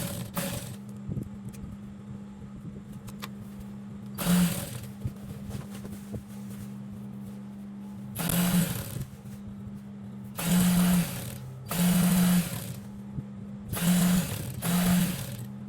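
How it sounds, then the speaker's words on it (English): A sewing machine stitches the sleeves of an Egyptian jilbab to its main body, running in about six short mechanical bursts separated by pauses, with a faint steady hum between them. "Then you sew from your sleeves down to your main hijab body."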